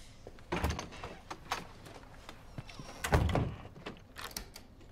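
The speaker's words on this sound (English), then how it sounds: "He locked this door behind me." Indoor door pushed shut and locked, giving two dull thumps with latch clicks and rattles around them, fairly quiet, with faint background sound in between.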